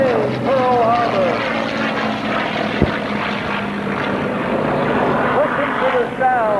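At an air show staging a Pearl Harbor reenactment, aircraft engines and propellers drone loudly and continuously overhead, with voices heard faintly beneath the steady roar.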